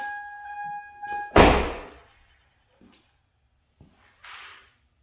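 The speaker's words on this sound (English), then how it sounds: "I'm going to go ahead and close the door." A Toyota Tacoma SR5 door swings shut with one firm, close slam, followed by a few faint knocks and a soft rustle in an otherwise quiet setting.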